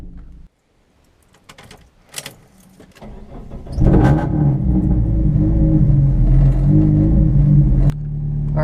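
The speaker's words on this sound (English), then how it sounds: "this car's loud. It has a high idle, amongst other issues" Straight-piped Mitsubishi Eclipse with a 420a engine, heard first as faint clunks and a door-like thump, then the engine fires into a loud, steady, droning high idle before dropping slightly at the end.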